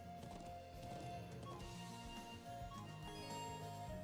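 Hoofbeats of a ridden horse in the video game Trails of Cold Steel sound as soft rhythmic clip-clops under a layer of game music and tonal effects, steady through the short stretch.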